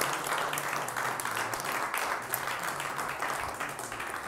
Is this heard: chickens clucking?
no